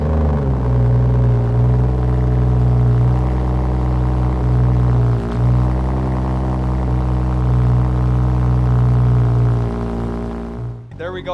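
Car engine with a muffler-deleted exhaust, revving close and loud with a deep, raspy rumble that holds and swells for about ten seconds, then cuts off sharply at the end.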